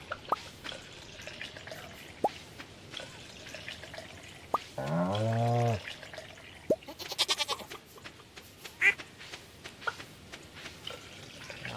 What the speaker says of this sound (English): Now let's milk the animals if we can.